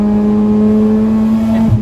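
A Mazda RX8 rotary engine holds a loud, steady, smooth hum up close, then drops off sharply near the end with a brief flap.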